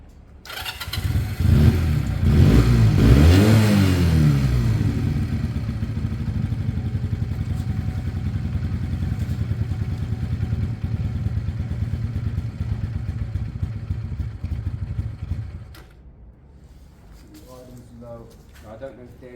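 A warmed-up motorcycle engine starts with a clattering rev, then settles into a steady, fairly loud idle that runs on before cutting off. Someone talks over it.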